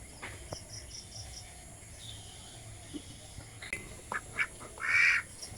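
A few native free-range field-foraging ducks quack in short bursts, the loudest call near the end, over a faint background of chirping insects.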